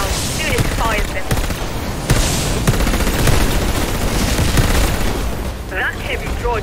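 Rapid bursts of automatic gunfire and booms from a firefight against a heavy droid in the video game Warface, loud and continuous, with a voice speaking over the shooting.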